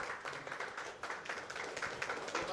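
Audience applause at a jewellery store discount-offer inauguration, many hands clapping in a dense, fairly quiet patter that continues steadily.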